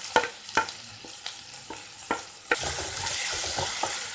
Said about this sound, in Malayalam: തക്കാളി സോഫ്റ്റ് ആകുന്ന വരെ ഒന്ന് വഴറ്റിയെടുക്കണം